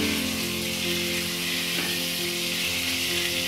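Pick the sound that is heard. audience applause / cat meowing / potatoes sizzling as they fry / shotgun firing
potatoes sizzling as they fry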